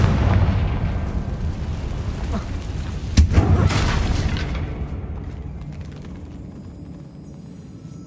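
The Confringo blasting spell from the Hogwarts Legacy video game goes off with a deep booming explosion that rolls into a long fading rumble, preceded by a sharp crackling burst and a softer earlier whoosh.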